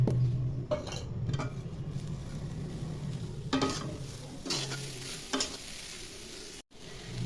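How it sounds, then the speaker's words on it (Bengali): Bay leaf, cinnamon, cardamom and coconut frying in ghee in a pan for Eid zarda semai, a constant sizzle with intermittent scraping and clinks of stirring, close up and without voices. "তেজপাতা, দারচিনি, এলাচ সব কিছু দিয়ে ভাজতে থাকবো।"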